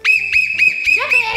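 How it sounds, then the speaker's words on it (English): A toy whistle blown in short repeated bursts, five shrill near blasts in quick succession, loud and steady in pitch, with household noise underneath. "Do not blow that whistle."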